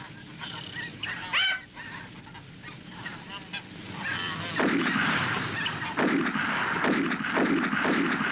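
Snow geese honking during a marsh hunt, a dense clamor of calls from a circling flock, followed by several loud shotgun blasts mixed with the continuing honks.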